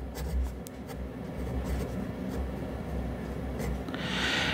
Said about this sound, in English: I'm going to be quiet and write a little bit and you can see what you think.